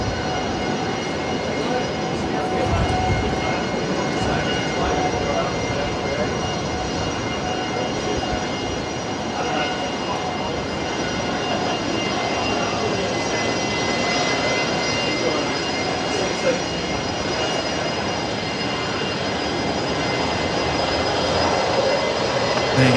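An airliner departing Brisbane Airport for Sydney produces a continuous, fairly loud jet engine roar with a tonal whine layered in, sustained throughout while voices talk faintly.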